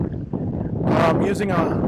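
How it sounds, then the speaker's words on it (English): Heavy wind buffets the microphone with loud rumbling gusts, nearly continuous over the short stretch. "Super windy out here, as you can see."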